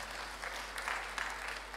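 A church congregation at a Kikuyu youth Sunday service applauds to welcome visitors, a soft, steady patter of many hands heard from a distance at low level.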